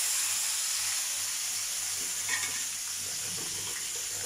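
Dried fish (shutki) fries in hot oil, a constant close sizzling hiss with faint crackles and a small burst of popping partway through.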